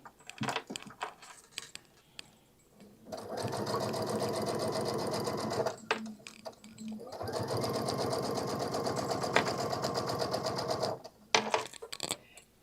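Sewing machine stitching across the end of a zipper on a bag, two close runs of rapid needle chatter split by a brief stop, with handling clicks and rustles around them.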